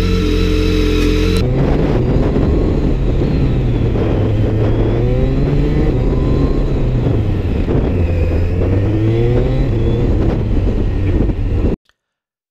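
A motorcycle fitted with a Booster Plug accelerates as the throttle is rolled on and snapped shut repeatedly, the engine note climbing and dropping in waves, loud and steady until it cuts off abruptly.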